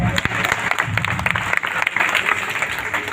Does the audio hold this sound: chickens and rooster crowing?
no